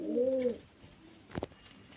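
A desi Girbaz-line pigeon from Murshidabad gives one short, clear coo up close, followed by quiet and a single sharp knock near the end.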